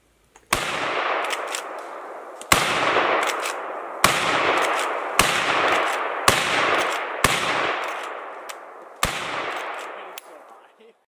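Seven loud gunshots from a firearm, fired one at a time at irregular intervals of roughly one to two seconds, each a sharp crack followed by a long ringing decay outdoors.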